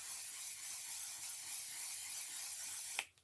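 A steady hiss of setting spray misted onto a face, continuous and close for about three seconds before it cuts off abruptly.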